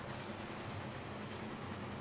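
A train in Bloodstained: Ritual of the Night rumbles steadily, a constant low, broad roar of a moving rail car with no breaks and nobody talking.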